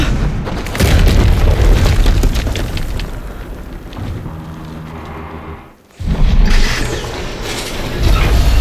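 Loud, sustained booming explosions in the video game Horizon Zero Dawn Remastered, a heavy rumble that dips briefly near the end and then surges back in with more blasts and mechanical clatter.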